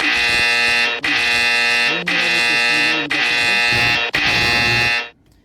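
A Gocar driver-app order notification rings as a loud, steady electronic buzzer-like alert with rich harmonics, pulsing in about five one-second repeats before stopping abruptly, with no talk over it.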